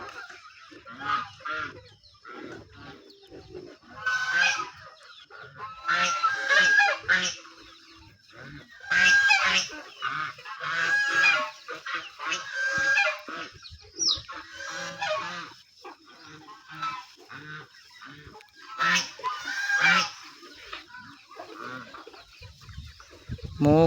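Ducks and chickens on a farm make repeated honking quacks and clucks, with several birds calling in overlapping bursts throughout, fairly close and steady.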